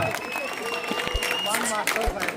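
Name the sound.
audience applause welcoming speaker on stage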